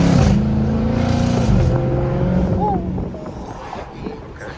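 Car engine pulling hard at full throttle from inside the cabin, a loud droning roar with a rising harmonic that climbs and then fades off over a few seconds.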